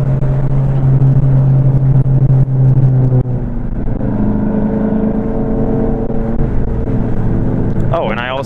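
Subaru WRX STI on a warm-up lap at Summit Point track, its engine droning loudly and steadily throughout with a low rumble and shifting pitch, and a voice talking briefly near the end.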